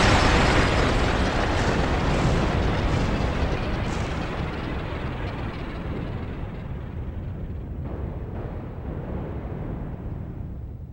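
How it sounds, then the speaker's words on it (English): An elemental cannon fires in the Thousand Arms video game, unleashing a huge, roaring explosion that hits at full loudness and rumbles on for several seconds, slowly fading with a long crackling tail. "Elemental cannon!"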